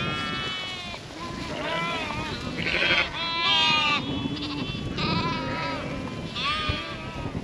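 Sheep and lambs bleat repeatedly and overlapping on a farm, a close, continuous chorus of calls from several animals.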